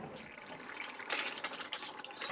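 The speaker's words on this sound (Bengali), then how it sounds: "এবার দিয়ে দেবো জল।" Water is poured into a pan of green pea ghugni with potatoes, a steady close splashing gush that lasts the whole moment and grows slightly louder partway through.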